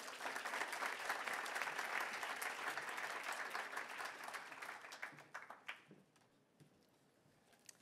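An audience at a New York University event welcomes the Deputy Provost with sustained applause. It stays dense and full for about five seconds, then thins to scattered claps and dies away.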